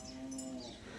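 Cows low at a gaushala cow shelter where the herd has been gathered into a pen, a steady close moo with no talk over it.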